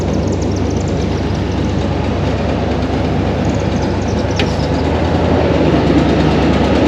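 The engine of a barn-find Chevrolet Monte Carlo in North Carolina runs with a miss, a loud, steady low rumble that holds close and unbroken with no talking.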